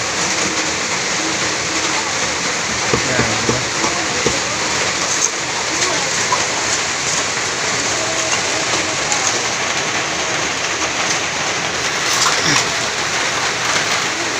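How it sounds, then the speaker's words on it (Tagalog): Heavy rain pours steadily and loudly on a work site during a stainless steel sink installation, a dense continuous hiss of splashing drops with people talking underneath. "lakas ng ulan"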